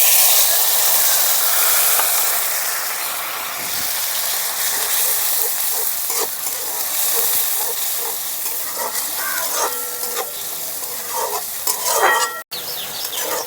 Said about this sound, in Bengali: পেঁয়াজ দেওয়ার পরে গ্যাসের ফ্লেমটা হাই করে একটু ভালো করে ভেজে নেব